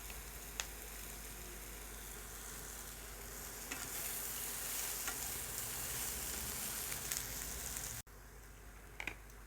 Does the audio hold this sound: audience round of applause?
no